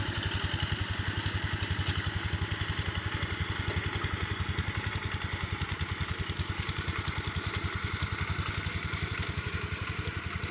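A small single-cylinder walking tractor engine chugs steadily and close by, with a fast, even putter and metallic clatter throughout and no talking.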